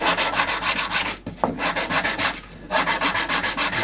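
Hand sanding of a narrow strip of wooden dental molding: steady back-and-forth rasping strokes, close and loud, with a short pause midway before the rhythmic rubbing resumes.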